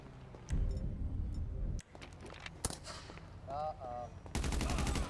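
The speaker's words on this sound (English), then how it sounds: "Despite being super long, it still fit into our pump action Mossberg 590 just fine." A pump-action Mossberg 590 shotgun fires a long custom shell: sharp, loud blasts ring out close by, with a sustained roaring burst at the start and another at the end, plus clicks and brief tonal sounds between.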